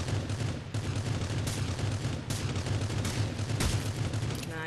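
Rapid, dense gunfire in the Rules of Survival battle royale game, sustained bursts crackling nearly nonstop over a low engine-like hum, with several sharper close shots standing out.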